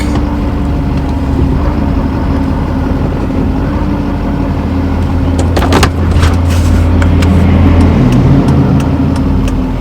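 A roadside assistance truck's engine rumbles steadily at low idle as it backs into place, a close, continuous hum with a few brief clanks midway and no talking.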